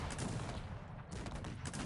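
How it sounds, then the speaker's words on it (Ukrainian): Cannon volley in the strategy game Cossacks 3, a dense rolling barrage of booming shots that fills the whole moment with continuous rumbling blasts and no talk. "Буде зараз зал гарматами."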